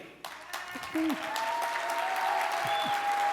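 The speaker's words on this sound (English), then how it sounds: "A big round of applause for Brenda Reddy." Keynote audience applauding, a full, sustained wash of clapping from a large crowd, with scattered voices and a few whoops rising over it.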